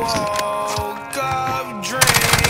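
Rapid gunfire bursts from a first-person shooter game ring out over tonal game music and effects, with a louder, denser volley of shots near the end.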